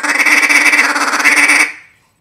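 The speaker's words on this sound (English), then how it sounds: "You can do a major feeding call with it." Close, loud blowing on a duck call sounding a feeding call: a rapid, continuous rolling chatter lasting about a second and a half, then stopping abruptly.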